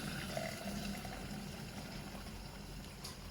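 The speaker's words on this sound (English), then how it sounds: "We're going to fill it to the brim." Coffee poured into a large travel mug, a soft continuous liquid gurgle and rush that fills the whole short stretch at a modest, even level.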